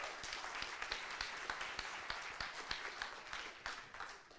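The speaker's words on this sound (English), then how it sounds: "So please give him a warm applause" Audience applause for a speaker at a tech talk on Reactive Streams, a fairly quiet, scattered clapping with distinct individual claps standing out, continuing steadily and tapering off at the end.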